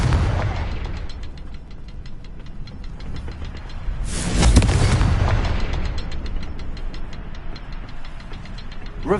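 A Confringo fire spell in Hogwarts Legacy bursts with a deep, loud explosive thump a few seconds in, rising out of continuous rumbling game ambience with rapid rattling pulses throughout.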